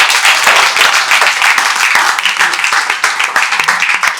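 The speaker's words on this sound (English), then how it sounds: "Please clap for Akash." A classroom group bursts into dense, loud applause for a student during a class leader election, with many hands clapping continuously throughout.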